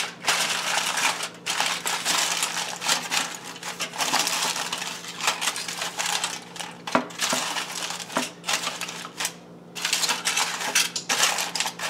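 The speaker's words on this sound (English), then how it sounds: "So I'm just going to wrap these up. Real tightly so they don't fall over." Aluminium foil crinkled and pressed tightly around venison-stuffed peppers, with close, busy crackling and rustling in irregular bursts, broken by sharper taps and short pauses, and no talking.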